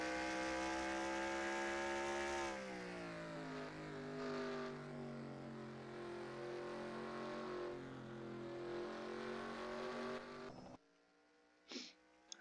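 A race car engine in a New Hampshire oval racing game drones at wide open throttle with a loud, sustained tone that shifts pitch slightly, then cuts off abruptly into near silence with a faint brief whir.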